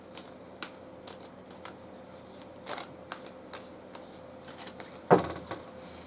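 A tarot deck shuffled by hand in a quiet room, with soft riffling flicks scattered through and one louder, sharper burst of card shuffling near the end.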